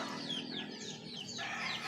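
Pet chickens cluck and chatter at a small backyard chicken farm, a soft, continuous flock murmur with overlapping calls, fairly distant and low in level.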